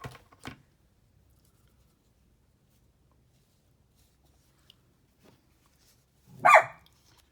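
A dog barks indoors in a quiet room, one short bark near the start and a louder, nearer burst of barking a few seconds later, with near silence between.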